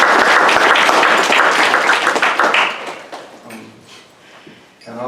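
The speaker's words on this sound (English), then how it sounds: "The Kwame Ture Society deserves a thunderous applause for this program." Audience applause at a tribute program, dense and loud for nearly three seconds, then thinning into scattered claps that fade before a last brief swell.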